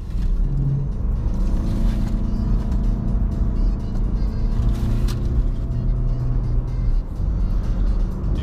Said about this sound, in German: ich bin jetzt hier im Sportmodus unterwegs auf einer schön kurvenreichen Straße